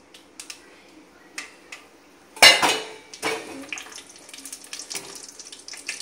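Drumstick, sweet potato and brinjal going into a pot for sambar, heard as a loud clattering tumble of vegetables and metal knocks mid-clip, followed by softer scraping and rattling.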